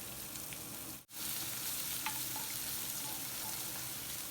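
Steady, close sizzling of a tempering of spices, finely chopped onions and green chilies frying in hot oil, with a brief dropout partway through and a few faint clinks.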